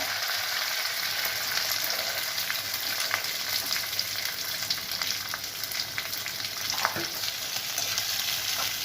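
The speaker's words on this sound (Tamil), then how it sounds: "எண்ணெய் காஞ்சிடுச்சு நம்ம அதில் வந்து வடகம் சேர்த்துடலாம் கருவேப்பிலை சேர்த்துடலாம் வெங்காயத்தை ஆட் பண்ணிக்கலாம்" Onions, curry leaves and vadagam crackle and sizzle in hot oil in a pan, a dense, continuous frying hiss with scattered sharp pops and occasional stirring, no voices.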